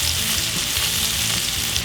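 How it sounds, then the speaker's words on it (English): Skinless boneless chicken breast pan searing in a hot smoking pan, a steady close crackling sizzle with soft pops, no voices. "I want to have some smoking, and I want some sizzling going on when I'm pan searing my chicken breast"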